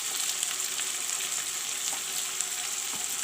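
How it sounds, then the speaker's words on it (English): Turmeric, chili and other masala powders frying in a pan for a palak curry, a steady close sizzle with faint crackles throughout. "some jeera powder, and fry the masalas."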